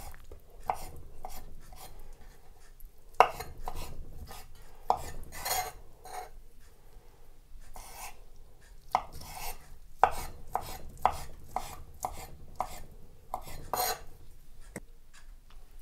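A knife chops food into square pieces on a board, irregular bursts of crisp taps and thuds, some rapid clusters, others spaced out, close and moderately quiet, with light kitchen clatter and no talk.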